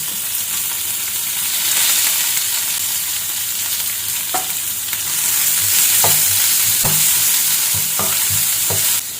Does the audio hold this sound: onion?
yes